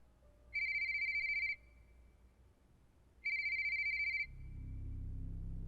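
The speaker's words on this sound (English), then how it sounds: "My phone rang." A phone ringtone trills twice in even, high electronic bursts with a pause between, clear against a quiet background that later fills with a low hum.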